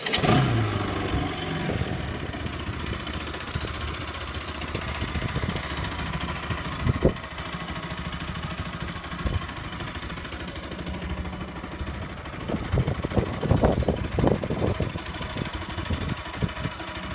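A Bajaj Pulsar 200RS motorcycle engine runs close by, a steady idle with short throttle blips and revs breaking through toward the end.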